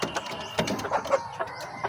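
A chicken, a backyard fowl, gives soft, scattered clucks close by, with short irregular calls spread across the moment amid light background noise.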